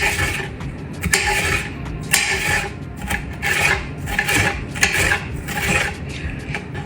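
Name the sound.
knife cutting peppers and onions into strips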